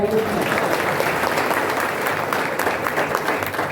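Audience at a political speech applauding in a steady, dense wash of clapping that fills the whole stretch without letting up.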